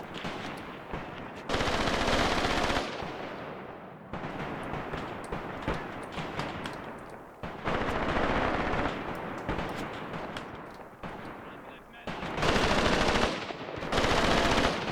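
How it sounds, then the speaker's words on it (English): Sustained machine gun bursts from the Graviteam Tactics forest battle, loud and dense, with several long rattling volleys separated by quieter stretches of distant gunfire. "Look how these enemies are being suppressed by the machine gun here."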